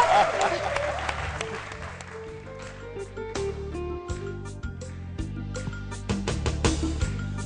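Studio audience applause on a French-language television show as a singer is welcomed, sustained clapping and crowd noise over a band playing, with a voice speaking through it.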